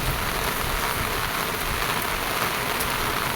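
Steady rain falling on surfaces outdoors, a loud, dense, unbroken hiss of drops with no voices.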